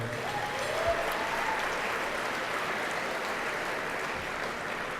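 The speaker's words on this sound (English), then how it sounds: "So a big round of applause for eircom." Audience at an awards ceremony breaks into sustained, dense applause, a steady wash of clapping that holds at an even, loud level for several seconds.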